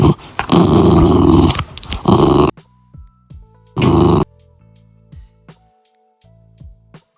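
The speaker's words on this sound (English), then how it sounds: "D for dog" A dog growling in short, rough bursts separated by silences, close and fairly loud, with a few quieter snarls and whimpers toward the end.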